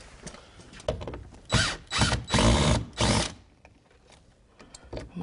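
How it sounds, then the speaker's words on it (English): Door hinges coming off, a close run of ratcheting, whirring bursts from a driver, loudest in the middle and trailing off into faint clicks and handling noise. "we're just going to take the hinges off today and swap them out"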